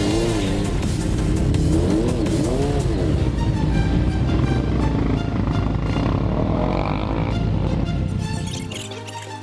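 Dirt bike engine revving hard and continuously during wheelies on a city street, loud and close with rising and falling pitch, fading slightly at the end.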